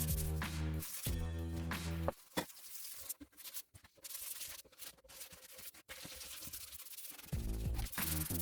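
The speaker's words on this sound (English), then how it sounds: "Smoothing it back off with the wet and dry." Wet and dry paper rubbing over a Honda CB750 petrol tank during wet sanding with soapy water, in irregular bursts of scratchy strokes broken by brief pauses and a few sharp knocks.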